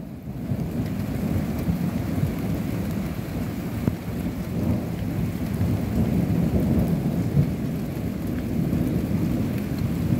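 A thunderstorm with steady heavy rain pouring down and low rumbling thunder rolling underneath, a continuous dense wash of sound with no voices.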